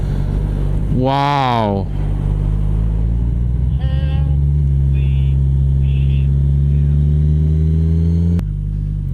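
Kawasaki Ninja 1000 motorcycle engine winding down from a brief rev, its steady low drone holding under a loud exclamation and faint chirps, then ending with a sharp click.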